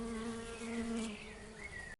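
Honeybees buzz close and steady for about two seconds, a continuous droning hum with a shifting pitch, cutting off abruptly at the end.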